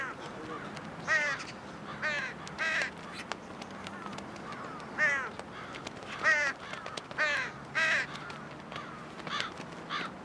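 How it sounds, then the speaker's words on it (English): Crows and magpies mob a buzzard, giving loud, harsh caws in repeated bursts from close by over a soft outdoor background. "the crows and magpies will cooperate in the face of a common enemy. A buzzard that dared to fly too near finds itself viciously mobbed."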